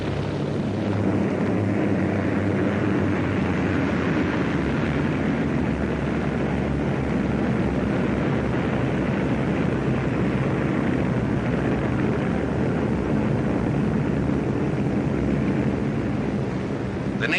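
Many US Navy training planes fly overhead in a 1940 scene, their engines blending into a dense, steady droning roar that stays loud and unbroken throughout, with no speech.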